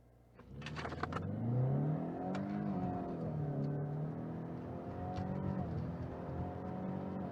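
A 2019 Ford Mustang EcoBoost launches on a quarter-mile drag run, its engine surging from a quiet start into a strong, rising rev with clear gear changes, then holding a sustained pull, heard from inside and without speech.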